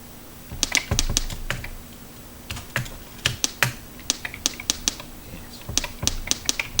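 Irregular keystrokes clack on an old MSX computer keyboard, sharp clicks in bursts and pauses, close up, with a faint steady hum underneath.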